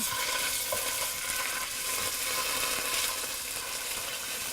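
Tomato paste frying with garlic in a pan for spaghetti alla puttanesca, a dense, even hiss of sizzling oil that holds steady and close throughout.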